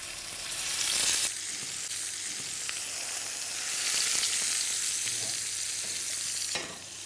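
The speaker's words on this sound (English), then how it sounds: "when it goes into the frying pan, it's really, really important that your fish is dry" A fish fillet frying in a hot pan, sizzling and crackling steadily, loud and continuous, with brief surges of hissing at the start and end.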